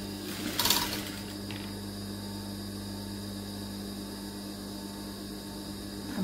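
A sewing machine stitching fabric runs with a steady, continuous mechanical whir and hum from start to finish, with a brief louder clatter near the beginning.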